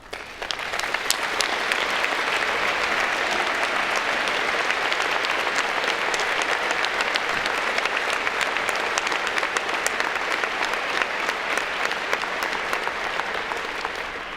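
Sustained audience applause at a 2018 gubernatorial debate in Northeast Tennessee, a dense, even wash of many hands clapping that holds strong for the full stretch and fades slightly at the close.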